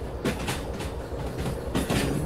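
A train rolls on rails in the video game Derail Valley, with a continuous rumbling wheel noise and periodic clickety-clack joint thumps. The sound is steady and fairly loud, with no speech.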